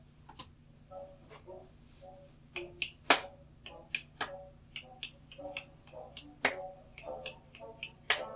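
Children snap their fingers along to music in a classroom listening exercise, with sharp irregular clicks scattered over faint recorded orchestral music.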